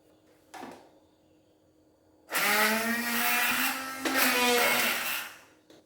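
A kitchen blender grinding spice paste for kikil, Indonesian beef-skin dish, whirring loud and steady for several seconds after a short earlier knock, pitch shifting slightly as it runs.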